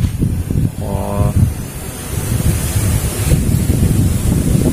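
Strong storm wind gusting in Rokan Hulu, Riau, roaring steadily and loudly against the microphone throughout, with a brief tonal whine near the start.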